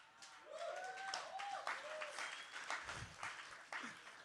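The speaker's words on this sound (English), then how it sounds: "I understand why you're hesitantly clapping" An audience at a comedy stage show clapping hesitantly, a scattered patter of hands with some voices and whoops over it, fairly soft and uneven, fading in and out across a few seconds.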